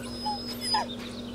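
A dog in a video game gives a short whimper and a yip, quiet and close over a steady electronic hum.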